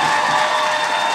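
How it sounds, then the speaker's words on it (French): Audience applause with cheering for a performer at a live comedy-talk show, a dense, loud, steady wash of clapping with no break. "Bonne main d'applaudissements pour Roxane Bruno qu'on aime très fort"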